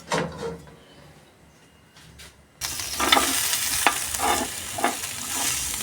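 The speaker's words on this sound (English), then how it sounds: "I put my maize flour, then I will start stirring till it is okay." Maize flour is stirred into boiling water in a pot: a quiet start with a few scrapes, then a louder, steady bubbling sizzle with repeated scraping strokes of the stirring spoon.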